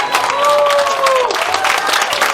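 A festival crowd at the 2022 Audru district days applauds and cheers a first-place winner receiving a medal, with steady dense clapping, a sustained whistle-like tone and an amplified voice talking over it throughout.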